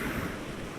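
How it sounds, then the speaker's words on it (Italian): Sea waves wash against rocks along a coastline as a steady, broad rushing surge with wind noise mixed in, heard alone and at a moderate level. "Adesso giocheremo un po' con queste onde."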